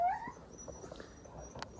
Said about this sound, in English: I want this dog to be free from this suffering.